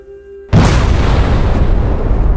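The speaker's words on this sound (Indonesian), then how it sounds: "Ledakan dahsyat mengguncang seluruh dataran kerajaan, menimbulkan gelombang kehancuran yang mengerikan." Huge explosion shaking a kingdom's plains, a sudden loud boom bursting in after half a second of quiet and rolling on as a dense, sustained roar until the end.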